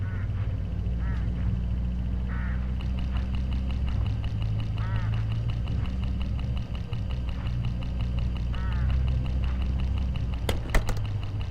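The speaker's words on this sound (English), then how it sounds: "hooded crows all along this road." Hooded crows call along a country road in the video game Hitchhiker - A Mystery Game, giving repeated harsh, nasal calls over a steady low drone of road or ambient noise.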